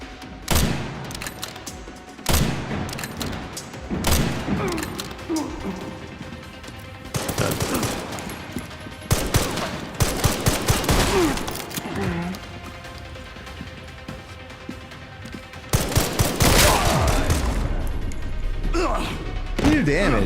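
Repeated bursts of automatic gunfire in a zombie shooter game, loud salvos separated by quieter stretches, with a player talking between volleys.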